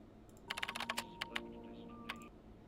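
Keyboard clicks come in a quick cluster, then a few isolated taps, close and quiet against a low background hum.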